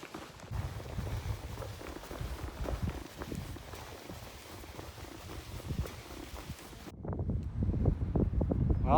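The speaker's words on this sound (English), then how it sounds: "It's too bad it's windy." Wind buffets the microphone in a steady low rumble on a walking route near Finisterre, with crunching footsteps and a louder gusty roar toward the end.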